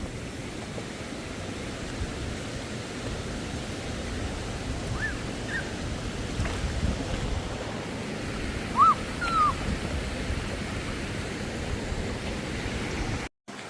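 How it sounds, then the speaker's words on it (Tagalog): A strong river current at the Cavinti river rushes with a steady broad wash of flowing water, close and continuous, with faint brief chirps or calls above it and a sudden cut near the end. "Lakas ng agos ano?"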